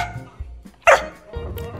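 A dog gives a single sharp bark at close range, followed by a softer whimpering yip, the sounds short and indoors.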